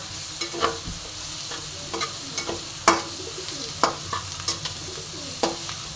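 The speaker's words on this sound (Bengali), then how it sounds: "এবার আমি ভালো মতন আবার নেড়ে নেব" Pointed gourd with salt and turmeric is stirred in a frying pan: repeated scraping and clinking spoon strokes sound up close over a soft, continuous sizzle.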